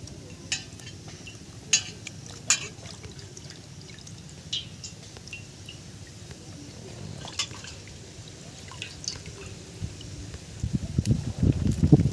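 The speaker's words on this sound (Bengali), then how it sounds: "মাছটা আমি ভালো করে ধুয়ে নেবো, ইলিশ মাছটা।" Raw hilsa fish being washed in water, with intermittent splashes and drips, soft handling clinks and a louder sloshing burst toward the end.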